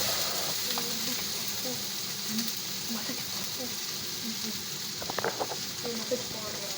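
Food frying in a pan over a low flame while being mixed, a soft continuous sizzle with occasional light scrapes and stirring taps, fairly quiet.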